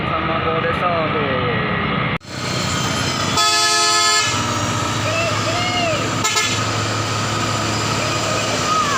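A tronton truck hauling hebel blocks climbs an incline and sounds a loud, tuneful telolet horn in short bursts over heavy engine and road noise, with other vehicles passing close by.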